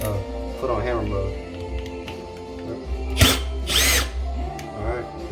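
A Milwaukee M12 drill in hammer mode cutting a hole for a toilet flange, whirring in short bursts with a loud surge near the end while a person talks over it.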